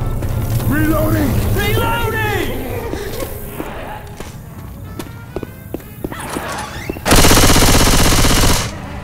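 A gun is reloaded in a video game, with quick mechanical clicks and clacks scattered among voices and distant gunfire, then a loud burst of noise toward the end.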